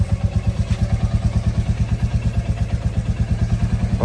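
A motorcycle engine idles while warming up, a steady, close, loud thumping putter with an even rapid pulse and no voices over it.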